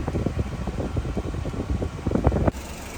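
A car's air conditioner blows cool air while the engine idles during an A/C refill with low refrigerant pressure: a steady, close, breathy fan rush that drops off abruptly near the end.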